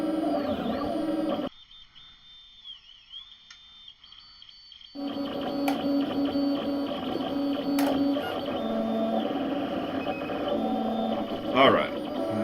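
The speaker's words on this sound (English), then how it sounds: "this is giving you a good idea of just how much the printer itself vibrates" A 3D printer hums and rattles steadily while printing a Benchy, its body vibration carried straight to a nearby camera, with a brief quiet drop partway before the mechanical whirring and buzzing resume and continue.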